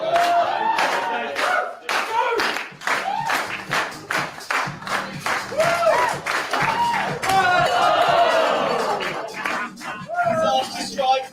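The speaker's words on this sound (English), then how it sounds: "Yeah, you can clap." Audience clapping at a cooking competition grand final, with broadband percussive claps in a steady patter across the whole stretch, mixed with crowd noise and voices.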